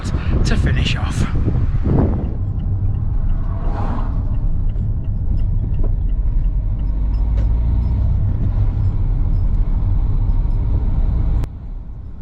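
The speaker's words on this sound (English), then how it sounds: "So let's hop into the car and head up there and see what that's all about to finish off." A car drives along roads near a small village, with a steady low engine and road rumble plus wind noise throughout and a few bumps early on, under no talk.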